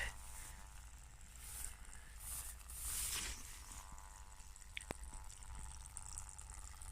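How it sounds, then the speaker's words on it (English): Water drips from a black pipe onto a leaf outdoors, a faint trickle and soft splashes with one sharper drop standing out against quiet background noise. "Black pipe. Water. Oh, water on a leaf."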